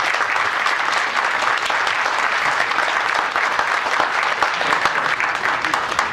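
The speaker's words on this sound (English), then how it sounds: "I think we need to give another round of applause to Sheriff Hunt." Sustained round of applause from an audience at a Middletown, California press conference on the Clayton fire, honoring the county sheriff; steady, dense clapping that fills the room without a break.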